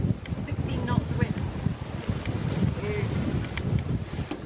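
Sailboat under main and genoa in about 16 knots of wind off Turkey, with steady broadband wind and water rush buffeting the microphone throughout.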